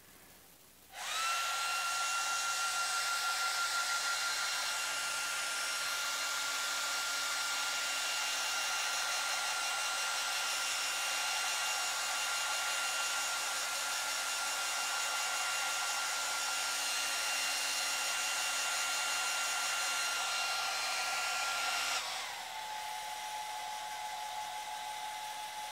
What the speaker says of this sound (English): I'm going to turn on my hairdryer.